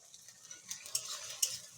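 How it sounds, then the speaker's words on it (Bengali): Onion, garlic, ginger, cumin and dried and green chillies sauté in a pan, giving a faint, steady sizzle broken by a few light stirring clinks and scrapes. "এইভাবে এখন একটু একটু করে কষাই নেব।"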